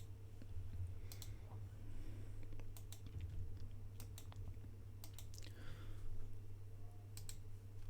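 Sharp plastic clicks from buttons on an X-Touch Mini controller, scattered single and double presses close by, faint over a steady background hum.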